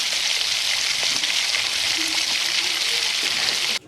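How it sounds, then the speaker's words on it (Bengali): Tomato and slit green chillies fry in a wok for kadai chicken, giving a loud, steady hiss and crackle throughout that cuts off abruptly near the end. "একটু ভাজা ভাজা হয়ে এলে এর মধ্যে টমেটো চেরা কাঁচা লঙ্কাগুলিকে দিয়ে দেব।"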